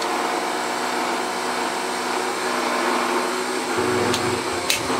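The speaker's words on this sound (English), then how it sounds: "that's come on without the main motor coming on." A Sebo Airbelt C3 vacuum cleaner running without its main motor, a steady close whirring hum that holds throughout, with brief clicks near the end.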